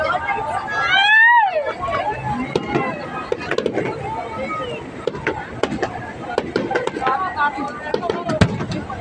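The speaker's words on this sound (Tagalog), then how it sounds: "Fireworks!" Sharp popping and crackling bursts of fireworks at a theme park, scattered irregularly, with a whistling rise near the start and people talking throughout.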